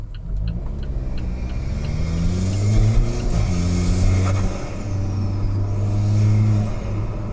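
An Alfa Romeo 4C Spider engine revs hard through a rough downshift, a close, loud, throaty roar that rises and falls with blips between gears.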